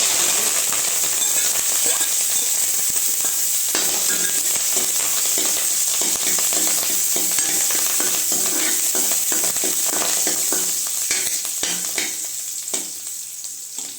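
Green chilies and curry leaves fry in hot oil after mustard seeds have popped, for a raw mango pachadi. A loud, dense, steady sizzle crackles with scattered pops, then eases slightly toward the end.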